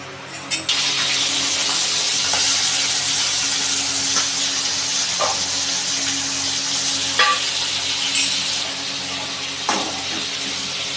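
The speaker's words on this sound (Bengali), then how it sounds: "দেখো চিংড়ি মাছগুলো ভাজা হয়ে গেছে" Salted, turmeric-coated prawns sizzle steadily in hot white oil in a wok, a loud continuous hiss with occasional sharper pops and spits while they are stirred.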